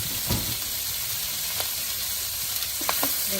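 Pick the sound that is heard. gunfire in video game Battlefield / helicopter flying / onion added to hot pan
onion added to hot pan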